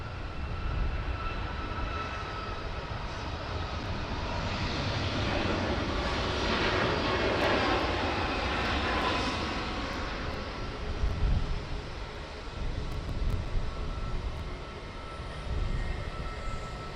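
A jet airliner landing on runway 16 right at Sydney Airport, a distant engine roar that swells and fades, with low rumbling wind noise toward the end.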